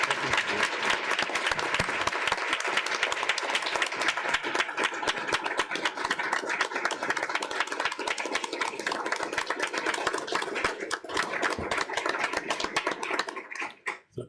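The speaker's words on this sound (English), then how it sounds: "I'm going to give a round of applause" A large audience claps continuously for over ten seconds, a thick even wash of applause that drops away abruptly at the very end.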